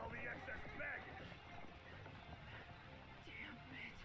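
Horse hooves clip-clopping in an anime, a quick rhythmic gallop under faint background sound, low in level.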